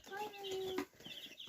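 Baby chicks in a coop give a brief, loud peep, a sustained high call followed by softer scattered chirps, heard up close.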